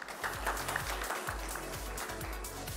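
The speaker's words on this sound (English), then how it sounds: "Let us have a round of applause for him" Audience clapping at a life and health insurance conference session as a speaker is welcomed, fairly faint and short, with low rhythmic hum-like music or tones underneath.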